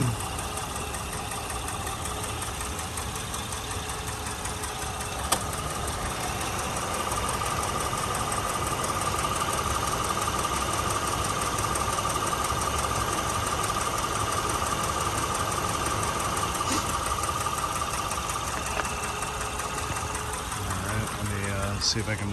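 A 2008 Honda Odyssey EX engine idles steadily with an even, continuous hum, heard close from under the open hood.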